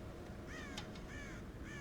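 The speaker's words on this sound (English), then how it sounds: "God damn crows!" Crows raiding a corn silo on a farm in Red Dead Redemption caw in a quick run of harsh calls, set against a steady background wash.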